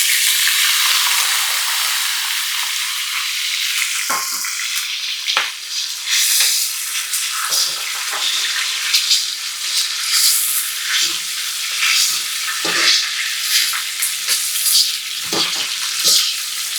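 Small shallots fry in hot oil for an egg kulambu and are stirred now and then. A loud, close sizzle runs throughout, broken by scraping stirring strokes, with no voices.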